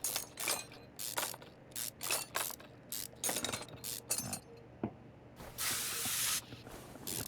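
Engine parts are sprayed down in Car Mechanic Simulator 2021 while working on a V8 OHV engine: clicks and clinks of parts, then a steady hissing spray burst lasting about a second near the end.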